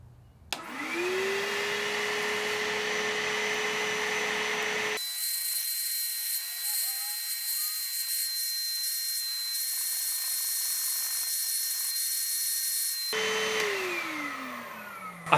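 A cleaning machine runs steadily up close, its motor spinning up, droning loudly with a high whine while sucking up dirt, changing pitch midway, then winding down at the end.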